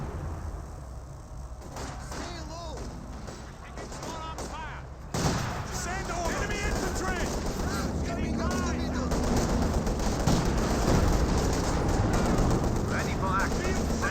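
Battle din from Company of Heroes 2, with Soviet heavy artillery and mortar barrages pounding infantry, rumbling explosions and gunfire piling up continuously and growing louder after a few seconds, with a commentator talking over it.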